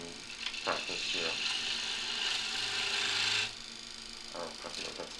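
A skew chisel scrapes and shears a spinning apple on a wood lathe, a steady rasping cut lasting a few seconds, with fainter rubbing before and after.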